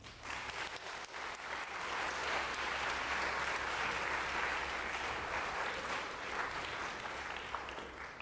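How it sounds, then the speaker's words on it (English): A group applauds the winners of a classroom activity, with sustained clapping that holds at an even, full level from start to finish and no voices over it. "Can we get a round of applause for our winners?"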